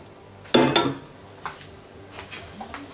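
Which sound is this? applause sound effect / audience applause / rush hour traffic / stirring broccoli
stirring broccoli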